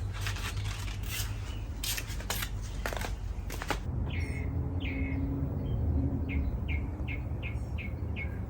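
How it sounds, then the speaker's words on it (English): Birds chirp in a backyard with repeated short, bright tweets from a moderate distance over a steady outdoor hum, following a few scraping, rasping sounds at the start. "It's nice to listen to the birds."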